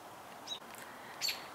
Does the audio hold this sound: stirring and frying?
no